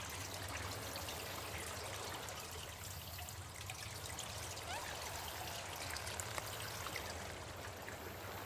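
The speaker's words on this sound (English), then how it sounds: "You see rushing water." Rushing water from a large spring in the Colossal Cave video game flows as a steady, faint, continuous trickling stream, unchanged and with no voices over it.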